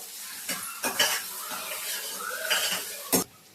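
Pasta being stirred and tossed in a pan, with soft sizzling under a few sharp scraping clinks of a utensil against the pan, close and alone.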